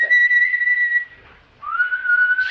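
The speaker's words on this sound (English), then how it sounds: "Stop what? That whistling. It's bad luck." A person whistling a short melodic tune, clear and moderately close, with a brief pause in the middle and no talking.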